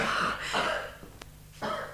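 A man coughs a few times in a Turkish radio drama, with short close hacking bursts separated by brief pauses.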